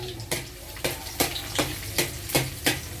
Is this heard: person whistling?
no